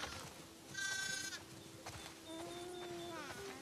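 Sheep in the video game The Last of Us Part II bleat in a few wavering, nasal calls that overlap one another over a low background hum, moderately close, with no talking.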